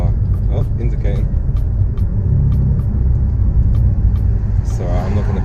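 Steady low car rumble heard from inside while driving, a continuous engine and road drone with faint clicks of a turn indicator; speech-like sounds appear but no clear words.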